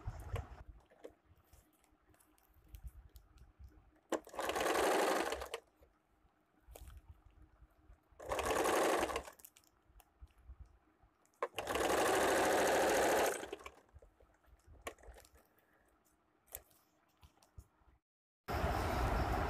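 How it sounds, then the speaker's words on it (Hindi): Sewing machine stitching cold sleeves, running in four loud bursts of a few seconds each, separated by quieter gaps with faint handling noise; no talking. "यहाँ से पूरा मैं इस तरह से सिल के कंप्लीट कर लूँगी।"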